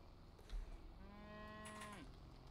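A cow in the video game Wobbly Life gives one clear, drawn-out moo of about a second, alone over a soft steady background.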